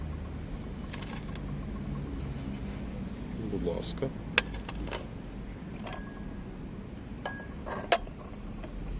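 A porcelain saucer from a tea set clinks softly as it is handled, a few sharp clinks spaced apart over a low background hum, with a brief spoken phrase.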